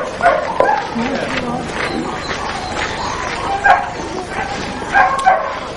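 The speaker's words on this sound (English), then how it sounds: "The dogs go into the stadium and onto the track." Greyhounds at a greyhound racing stadium give scattered yips and barks over a busy, noisy background, with people talking nearby.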